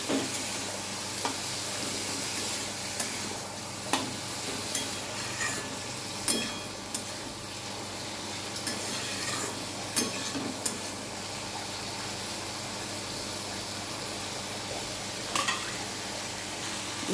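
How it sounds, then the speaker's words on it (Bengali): Washed masoor lentils fry in a pan with a steady soft sizzle, broken by occasional scrapes and clinks of a spatula stirring them, close and even throughout with no talk. "ডালটা একটু একটু ভেজে নেব ভালো করে"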